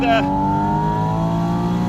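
A Porsche Spyder RS engine gives a quick blip on a downshift, then holds a steady, smooth mechanical drone, close and fairly loud.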